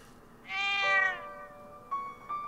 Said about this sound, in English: The meow is more restrained